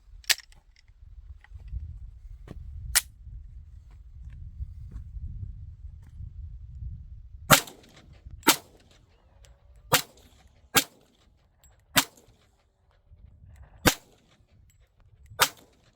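Smith and Wesson M&P 2.0 10mm pistol firing jacketed hollow point rounds at a steel target, two sharp shots, then a quiet pause and six more shots at irregular intervals, each a loud, crisp crack.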